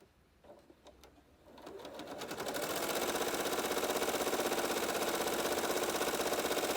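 A sewing machine doing free motion quilting in a stippling pattern starts with a few slow stitches, then speeds up into a steady, fast, even mechanical chatter that runs close and continuous.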